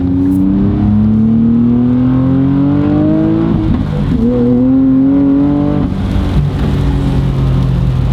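A 2023 Nissan Z with full bolt-ons, an E85 tune and over 500 hp accelerates hard and close, its loud engine note rising steadily through the gears with one shift midway and no talking.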